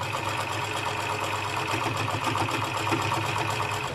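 Sewing machine stitching a baby's hat, running in one steady, close, continuous whirr with a fast, even mechanical pulse and no pauses.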